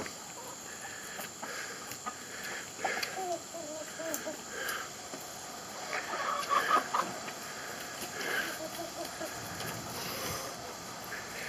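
Several hens, some with red on their necks, cluck and murmur nearby, short repeated clucks rising and falling in bursts, with a few louder calls mid-way.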